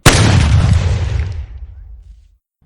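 A single loud gunshot bursts out, followed by a long booming echo that rumbles and fades over about two seconds.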